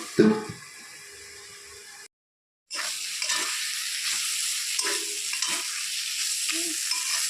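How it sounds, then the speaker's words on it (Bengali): Dried shrimp bharta stirred in a pan gives a steady soft sizzle with scraping spoon strokes, broken by a brief silent gap before the frying hiss resumes close and even. "নেড়ে চেড়ে এটাকে আমি আবার ঢেকে দেবো"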